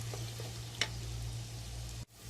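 Onions and ginger browning in a pan for Punjabi sarson ka saag, a steady soft sizzle with a brief stir near the middle and a quick cut before the frying resumes.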